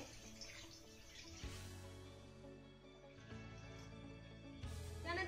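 Water poured from a bowl into a kadhai set on a gas stove, a steady watery rush running close and fairly loud with a couple of surges, no talk over it.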